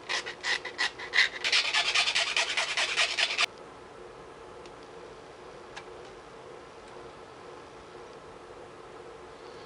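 Hand filing on the gasket hole of a KLX 300 engine case: a fast run of rough, rhythmic rasping strokes, close and fairly loud for about three seconds, then it stops and only faint room noise remains.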